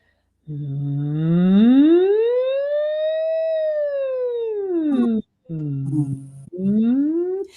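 A voice imitates a siren by humming, sliding smoothly up in pitch and back down, then starting another short rising hum after a brief break.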